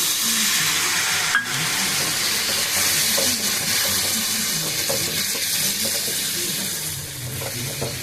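Cornflour slurry poured into mushrooms cooking in a pan, a steady loud sizzle with a brief splash as the liquid goes in, continuing hiss and bubbling throughout with no talking.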